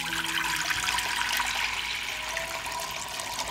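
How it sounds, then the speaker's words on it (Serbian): Water pours steadily into a cooking pot as a litre is filled for a recipe, a continuous gushing splash at moderate distance with no speech. "U šerpu ću sipati litar vode."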